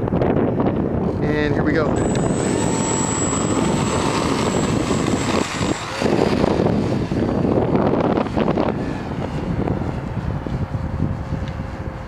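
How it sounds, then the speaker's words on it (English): Strong wind buffets the microphone nonstop at an outdoor flying field while an FMS G Kemy RC trainer plane is flown, with a faint buzzing motor tone and someone talking briefly over the roar. "Yeah, that wind is really strong."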